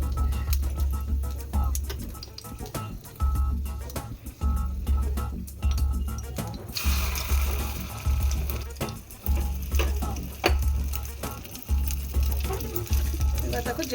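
Eggs frying in a small amount of oil in a pan for omelette curry, with a steady sizzle under repeated low rhythmic thumps, brightening into a louder hiss midway through.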